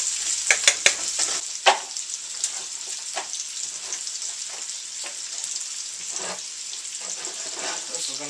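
Bacon fries in a pan with a steady, close sizzle, broken by a few sharp pops and stirring scrapes near the start, then a continuous crackle.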